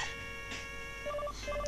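Electronic phone ring from the Mega Man 9 video game, short repeating beeping tones in two bursts over steady background game music, no talking.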